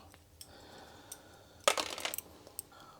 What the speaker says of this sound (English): So I'm taking off all the keycaps.